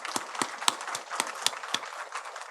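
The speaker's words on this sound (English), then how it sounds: "let's have a big round of applause for the panel" At a natural gas seminar, an audience claps for the panel. The claps are faint and scattered, and there are only a few of them.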